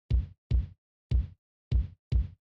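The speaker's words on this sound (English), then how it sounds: "The very first thing is a kick drum" Five deep electronic kick drum thumps, each short and punchy, spaced at a slightly uneven pace with silence between them.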